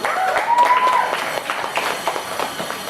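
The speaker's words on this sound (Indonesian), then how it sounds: "Untuk itu kita aplaus untuk teman-teman komik semuanya." Crowd applause for student comedians at a university campus gathering, a dense, steady wash of clapping with a brief whistle near the start, lasting throughout.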